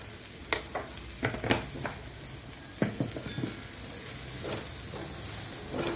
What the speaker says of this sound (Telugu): ఇదంతా బాగా ఫ్రై అవ్వనివ్వండి కొంచెం.